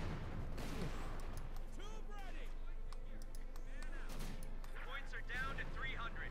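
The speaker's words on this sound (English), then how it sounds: "MD-54 almost wiped out there by mortar fire" Company of Heroes 2 battle with mortar fire landing: repeated thuds, crashes and gunfire bursts amid whistling shell sounds, fairly quiet and steady in level, with a commentator talking over it.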